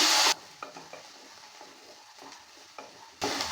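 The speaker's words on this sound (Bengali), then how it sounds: "এবার দিয়ে দিচ্ছি এখানে ভিজিয়ে রাখা মটর ডাল মটর ডালটা দেওয়ার পর ভালো করে নেড়ে চেড়ে নিচ্ছি" Soaked matar dal stirred and fried in a pan, giving soft scraping and a low sizzle with a few light clinks, bracketed by louder bursts of hissing at the start and end.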